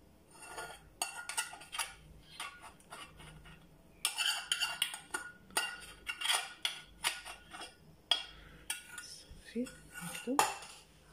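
Chocolate being stirred together with water and glucose in a bowl, the utensil scraping and clinking against the sides in a series of quick, uneven strokes, close and moderately loud with no talk.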